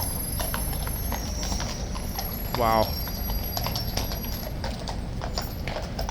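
A bay horse named Boudica clip-clops at Horse Guards, her hooves striking in a brisk, even rhythm near at hand. A short whinny-like call rises midway, and one voice briefly exclaims.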